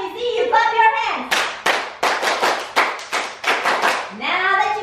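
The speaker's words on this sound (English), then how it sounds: "Hey, all you summer camp fans, let me see you clap your hands." Summer camp kids clap their hands in a rhythmic series of sharp, loud claps between bursts of sung and chanted voices leading the group.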